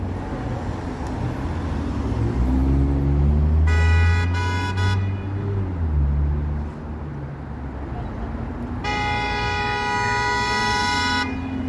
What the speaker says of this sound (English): What's with all the honking?